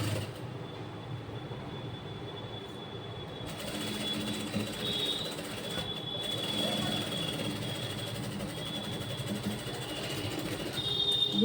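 A sewing machine stitches the final fitting seam of a blouse, a steady, low mechanical whirr that keeps running for several seconds at moderate volume.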